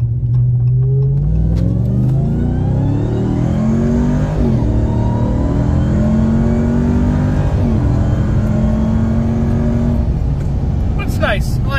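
A 2021 Ram TRX's engine revs up and down several times with a steady, loud roar, fitted with an AFE intake that adds a faint whine on top; talk is audible alongside it.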